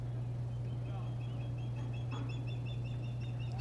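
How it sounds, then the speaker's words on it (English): A seagull calls in short repeated cries at a baseball game in Grants Pass, the calls sitting over a loud, steady background hum. "Somewhere a seagull continues to sound."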